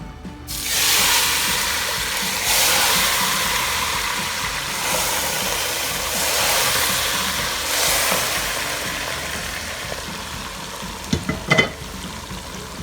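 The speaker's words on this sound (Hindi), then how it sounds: "और ये मैं घी डाल दूँगी" Ghee going into a mutton karahi with yogurt over high heat, producing a loud broad hissing sizzle that swells in waves, then fades slightly, with a few sharp metal clatters near the end.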